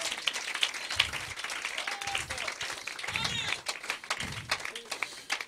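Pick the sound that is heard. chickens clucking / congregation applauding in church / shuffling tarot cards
congregation applauding in church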